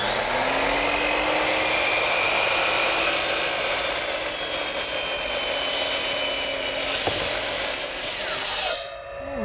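A power saw cuts through wood decking boards, a loud, continuous close-up whine and rasp that runs for several seconds before the blade clears the board and winds down.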